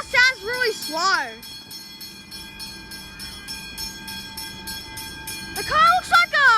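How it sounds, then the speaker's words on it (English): Warning tones blare in bursts at the Macaulay Road level crossing in North Melbourne as a train approaches, the sound loud at the start and end with a steady hum and faint bell between. "Okay, I saw the train. It's coming right now."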